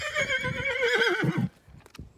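A horse on a ride gives a loud, close whinny with a wavering, descending pitch that lasts about a second and a half, followed by a few soft hoof clops.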